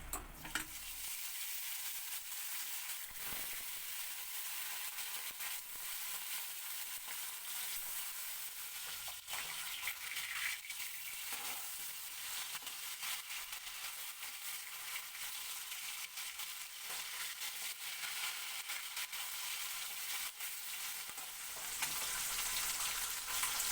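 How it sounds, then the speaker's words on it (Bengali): Bata fish frying in hot oil in a wok, a steady dense sizzle that runs unbroken and close for the whole stretch, with no voices over it. "এবার এই তেলের মধ্যে আমি বাটা মাছটা ভেজে নেব।"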